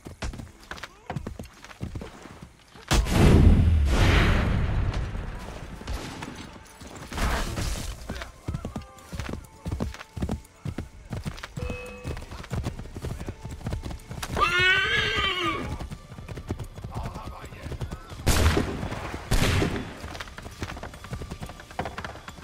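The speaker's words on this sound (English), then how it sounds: "Get on that horse." Horse hooves clip-clop rapidly in a steady gallop in Assassin's Creed III Remastered, with a loud whinny midway and a few scattered whooshes and impacts over the hoofbeats.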